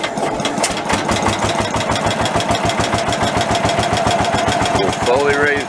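An Allis Chalmers 716H garden tractor with an updraft carburetor and the choke on sputters into life and settles into a steady, close, rhythmic idle, then a short voice comes in at the end.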